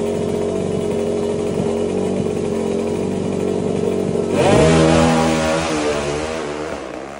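At a KTM versus KR/Sonic drag race, a loud motorcycle engine drones steadily, then revs hard and races past, its pitch rising and falling.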